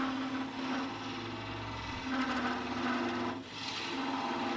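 A wood lathe spins at about 450 rpm while a single-piece wooden yo-yo is turned and made ready to part off. It gives a steady, close mechanical whir with a low hum and a rubbing hiss that swells and dips.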